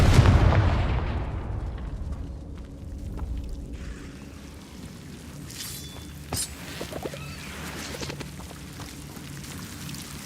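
Confringo fire spell exploding in the video game Hogwarts Legacy, a loud booming blast that decays into crackling debris and scattered small impacts, no talking.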